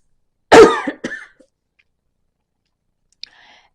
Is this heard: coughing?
yes